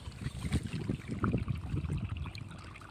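Water runs steadily through a farm field channel where soil conditioner is being poured in before sowing RD61 rice, a continuous close gurgling, splashing wash with no voices.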